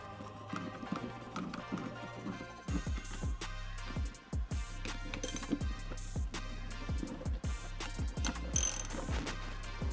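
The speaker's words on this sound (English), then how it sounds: "We're going to go ahead and run our bolts through the top tree and thread them into" A hand ratchet runs two 3/4-inch bolts through the top tree of a 2024 Harley-Davidson Road Glide and threads them into a Kraus T-bar riser, giving repeated quick clicking bursts of the pawl over steady low music-like hum.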